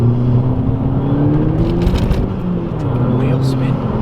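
VW Golf GTI mk5 hatchback spinning its wheels under hard acceleration on greasy road, with a steady, loud engine drone that rises and dips throughout, a voice speaking over it.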